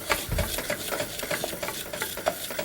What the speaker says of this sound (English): we're going to toast the rice till the grains become, first of all, translucent and then a milky colour